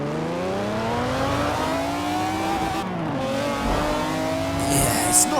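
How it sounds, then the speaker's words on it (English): An old McLaren F1 engine sound from a Forza racing game, a revving engine climbing steadily in pitch through the gears, loud and close, with a brief shift dip midway. "originally the McLaren F1 in this game did apparently sound really bad. I mean, here's a sound file of what it used to sound like"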